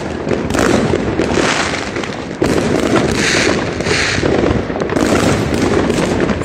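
Fireworks burst continuously during New Year celebrations, a dense, loud barrage of crackling pops and booms filling the whole stretch with hardly a pause.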